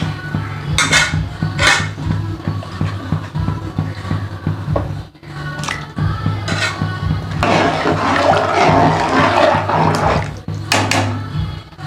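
Metal lid set onto a pot of pumpkin and potato khichuri on the stove, with clanks of cookware over a steady low hum and a rushing, bubbling stretch.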